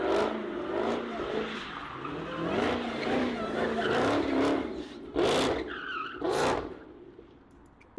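A 1200-horsepower Dodge Hellcat drifts with a loud, sustained engine roar and wavering tire squeal that builds and falls, ending in a few sharp screeching bursts before it fades.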